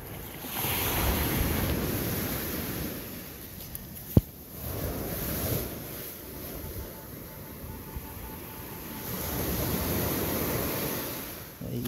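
Ocean waves roll onto a beach at night in steady swells, rising and falling in a broad rushing wash, with one sharp click near the middle, during metal detecting.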